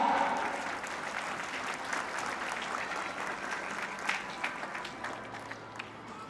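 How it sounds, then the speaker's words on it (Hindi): A school annual function crowd gives steady applause to welcome the principal, a continuous, fairly distant wash of clapping with a few sharper claps near the end and no clear speech. "प्रिंसिपल महोदय जी का एक बार जोरदार तालियों से स्वागत कीजिएगा।"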